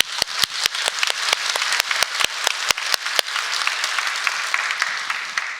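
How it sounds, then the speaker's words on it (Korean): A church congregation breaks into applause, with loud, sharp claps close by at first that quickly merge into a dense, steady ovation from many hands. "하나님께 영광의 박수를 한번 하겠습니다"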